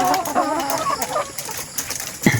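Dekalb White laying hens, a ready-to-lay (RTL) breed, cluck and chatter in short, overlapping bursts from a nearby flock, with a sharper squawk near the end.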